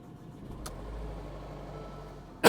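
A low, steady idling rumble, then a sudden loud burst as the engine of an X-Type car with 156,000 miles turns over at the very end, close by.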